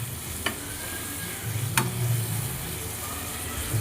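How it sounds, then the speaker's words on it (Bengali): Onions fry in a pan with cinnamon and cardamom for a Maharani chicken curry, giving a low steady sizzle broken by two sharp utensil clicks against the pan. "পেঁয়াজটা ট্রান্সপারেন্ট হওয়া পর্যন্ত একটু ভেজে নেব"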